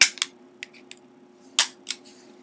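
The slide drops on an unloaded Walther PK380 pistol: a sharp metallic snap up close, followed by a few smaller clicks and a second crisp clack.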